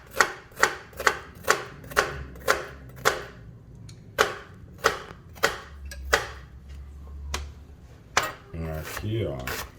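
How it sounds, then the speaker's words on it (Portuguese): A knife chops an onion finely on a board in a kitchen, with about a dozen sharp, evenly spaced knocks followed by a few scattered ones. Faint rustling and brief handling noise come at the end, and no one speaks. "fazer o corte de picar a cebola miudamente, que a gente chama de brunoise"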